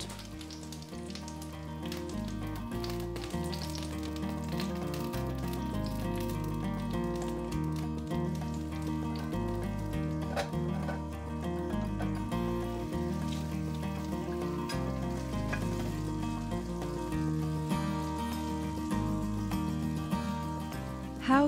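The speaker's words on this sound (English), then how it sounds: "Be careful with the heat when you pan fry the buds." Small garden artichoke buds sizzle and crackle steadily in a frying pan, with a dense, continuous spatter of popping fat close up and no one talking.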